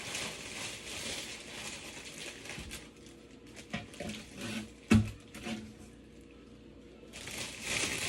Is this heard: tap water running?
yes